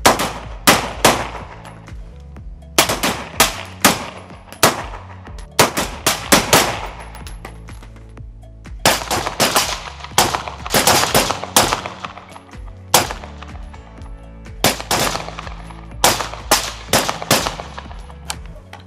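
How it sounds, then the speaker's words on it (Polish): Gunfire on an outdoor shooting range during a combat-shooting drill, heard as loud, sharp shots in repeated clustered bursts with short pauses between groups, each crack echoing briefly. "Ognia, dwa strzały."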